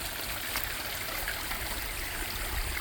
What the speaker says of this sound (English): I was able to turn this waterfall back on.